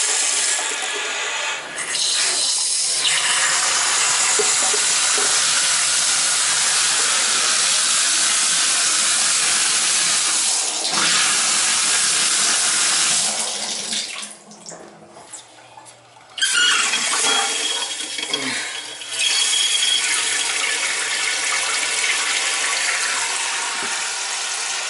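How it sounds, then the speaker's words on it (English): Water runs hard from a faucet in a house being turned back on after winterization, a loud steady hissing rush that briefly cuts off midway and then resumes. "I'll go on and do all the faucets."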